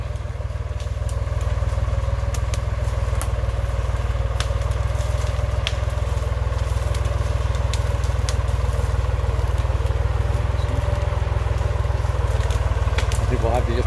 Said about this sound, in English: Tom's gonna back the tractor up to this rig